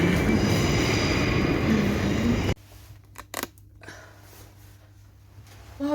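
Train noise at the Brighton station: a loud, steady rumble and hiss of a passing train that cuts off abruptly, leaving quieter platform ambience with a few clanks and knocks.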